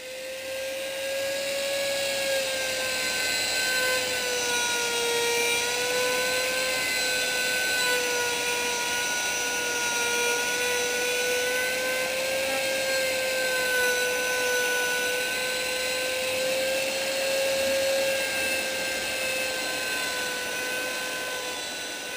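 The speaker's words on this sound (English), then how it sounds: "All I did was use the Dremel tool here" A Dremel rotary tool whines steadily while cutting out a knife handle, its high motor tone holding nearly constant and loud for over twenty seconds, with a gritty grinding hiss beneath and no talking.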